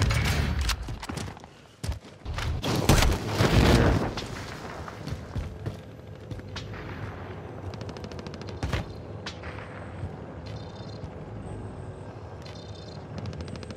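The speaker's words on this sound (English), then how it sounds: "you can even shoot people from under here" Gunfire in the video game Warzone, shot from beneath the map: loud bursts of rapid automatic fire and booms in the first few seconds, then quieter scattered shots and game ambience with faint electronic beeps.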